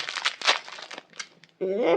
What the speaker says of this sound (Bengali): আমি একটা প্যাকেট খুলে দেখাই।